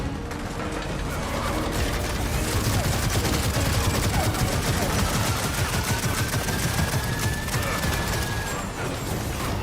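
Heavy weapon fire in Gears of War 4, a sustained, loud, rapid mechanical rattle of shots that runs unbroken for several seconds, close up with no voice over it.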